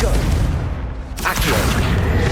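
Hogwarts Legacy's Confringo spell goes off as a heavy in-game explosion: a dull boom that drops briefly, then a sharp blast that keeps roaring and crackling loudly through the rest.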